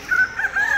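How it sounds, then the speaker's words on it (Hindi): A desi rooster crows once, a short loud call close by, at a weekly market in Indore. "ये देसी मुर्गे कुकड़ू को आप सुन सकते हैं"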